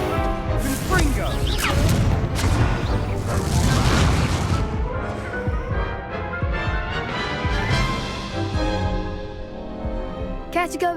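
The Confringo blasting spell explodes in the video game Hogwarts Legacy, a dense run of booming, crashing impacts and whooshes, loud and close, with a shouted voice mixed in.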